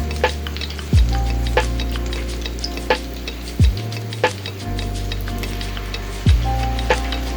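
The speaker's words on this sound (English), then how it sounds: "So let those go, let those fry up." Mozzarella cheese wings fry in hot oil with a steady, close sizzle, broken now and then by sharp clinks and soft thumps; no one speaks.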